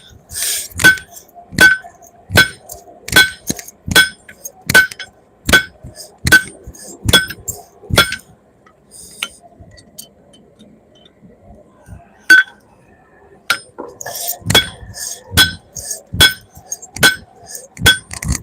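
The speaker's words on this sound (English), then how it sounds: "right now I'm just hammering out a hammerhead drift" Hammer blows on hot steel while forging a hammerhead drift ring out as sharp metallic clinks in a steady rhythm, pausing briefly midway before another quick run of strikes.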